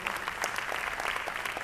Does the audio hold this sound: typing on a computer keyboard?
no